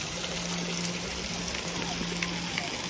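Spring water runs down from a hillside at the Aina Jharana springs in a steady, gentle trickle. The flow is fairly faint and close, with a low constant hum beneath it.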